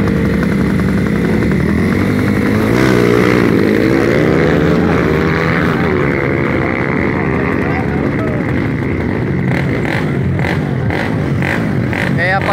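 Powerful drag racing motorcycles revving on a damp dirt track at an arrancada event in São José dos Pinhais, Paraná, a loud continuous engine drone running throughout with people talking over it.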